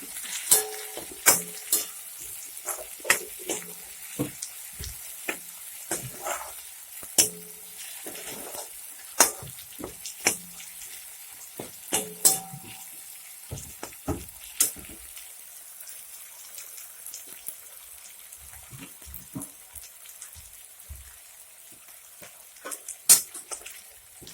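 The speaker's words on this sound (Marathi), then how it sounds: "त्याच्यात आपण आता थोडंसं धुतलेला कडीपत्ता टाकणार आहोत हलवून घेणार आहोत" Washed curry leaves hit frying tomatoes in a pan and are stirred, with repeated sharp scraping and clattering strokes over a soft, steady sizzle, busier at first and thinning out later.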